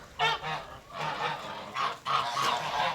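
A flock of 23 geese honks in quick, overlapping bursts, a loud and busy flock calling close by.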